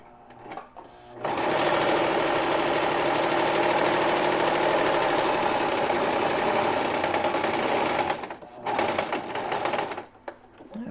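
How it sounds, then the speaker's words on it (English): A sewing machine stitches a quilt block from one corner to the other, running in a fast steady mechanical chatter for about seven seconds, then pausing and briefly restarting, close and loud. "I'm going to stitch from one corner to the other corner."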